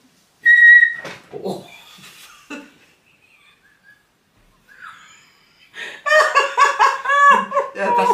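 A person whistles a short, clear, high note up close, followed by scattered breathy sounds and a quiet pause, then loud laughter and giggling from people nearby.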